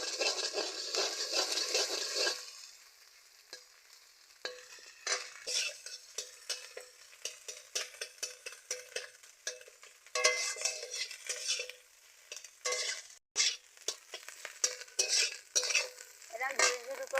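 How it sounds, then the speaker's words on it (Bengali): Egg is scrambled and fried in a pan, with repeated scraping and clattering spatula strokes over a soft sizzle, coming in irregular bursts with brief pauses between them. "এরকম ঝুরঝুর করে ডিমটাকে ভেজে নিলাম"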